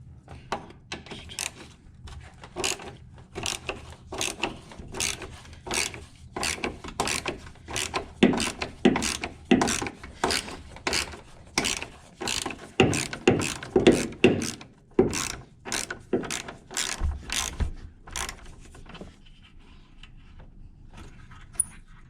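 A ratchet wrench loosens a front strut bolt on a 2007 Chevy Equinox, giving a long run of quick, close mechanical clicks that come in bursts with short pauses, no talking.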